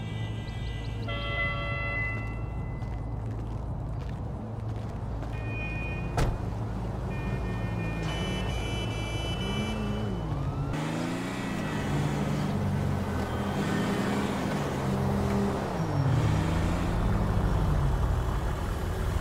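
A car engine in the GTA 5 video game rumbles steadily throughout, with shifting revs and tonal whines rising and falling as the vehicle drives, loud and continuous with no talking.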